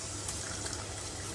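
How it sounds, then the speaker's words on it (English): Pasta water poured into a pan of paprika-seasoned sauce, a brief steady gushing splash at close range with no talk. "I'm gonna add some pasta water"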